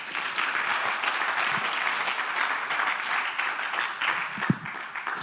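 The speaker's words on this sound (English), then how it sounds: "Let us give the presenter a better clap." A conference audience at an international music and performing arts event applauds a presenter, a fairly quiet, even wash of many hands clapping throughout, with a slight bump near the end.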